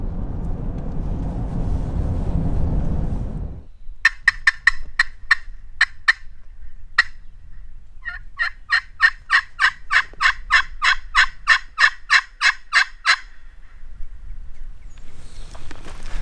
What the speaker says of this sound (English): there's a gobbler going back to the left now